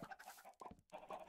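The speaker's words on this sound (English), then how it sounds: "Dude, that's a lot of chickens." Several Minecraft chickens cluck in short, quick bursts with a brief gap midway, quiet and close, and no one speaking.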